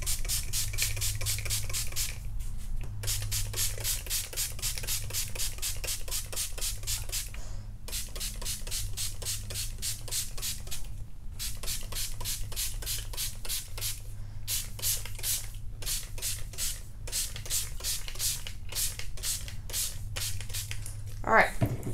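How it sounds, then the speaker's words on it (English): Poly tee spray is spritzed onto 100% cotton shirts in rapid bursts of hissing pumps, close and fairly loud, with short pauses between runs and a low voice speaking underneath. "you're just spritzing where you're working."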